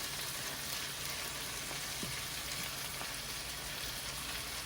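Chopped tomatoes added to liver frying in a pan, giving a steady, even sizzle with faint crackles and a few soft stirring clicks, close and continuous, without talking.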